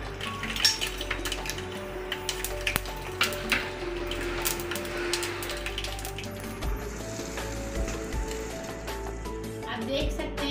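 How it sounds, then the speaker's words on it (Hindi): Mustard seeds and sesame seeds sizzle in hot oil for a tadka over patra, a steady frying hiss with scattered pops and utensil clinks, while a person talks over it. "अब हम इसमें राई और तिल ऐड कर देंगे।"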